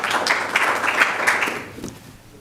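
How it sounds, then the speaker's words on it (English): A round of applause in a room at a school board meeting, moderate in level and steady for a couple of seconds before tapering off. "You can give him a round of applause."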